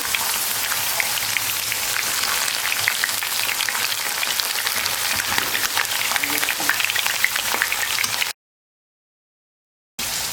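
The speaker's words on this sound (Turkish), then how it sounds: "Yağ ısındıktan sonra kabakları ters yüz edip kızartıyorum." Steady, crackling sizzle of zucchini frying in hot oil, close and loud, running unbroken before cutting to a brief silence near the end.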